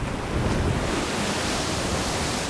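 Ocean waves breaking at sea, heard as a steady, loud broadband rush of surf with no distinct individual crashes and no voices.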